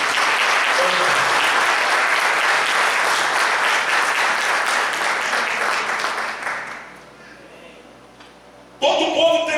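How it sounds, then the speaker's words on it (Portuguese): Church congregation at a Sunday evening service applauding together: full, sustained clapping that dies away after about seven seconds into near quiet, followed by an abrupt return of amplified sound. "Pode aplaudir o Senhor."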